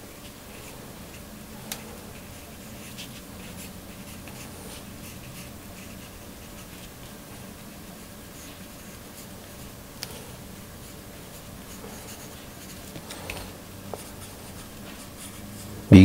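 Pen or pencil scratching on paper while a simple cartoon of a family shopping is drawn, a soft steady rubbing stroke throughout with a few faint taps, close and quiet with no talk.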